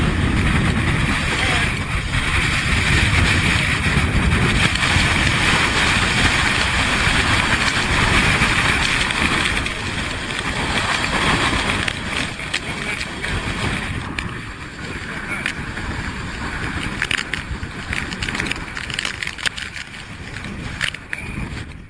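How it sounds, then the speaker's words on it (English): Strong storm wind roars across a beach in a constant, loud, buffeting rush that fills the sound with broadband noise and gusting surges throughout. "Down on the beach now. The wind is really whipping up."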